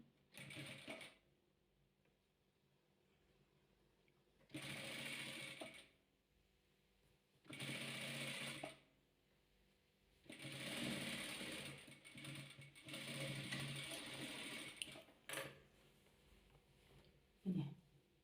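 A sewing machine runs in several separate bursts of stitching on a six-colour patchwork of fabric pieces, each run a steady mechanical whir lasting one to three seconds, with quiet pauses in between.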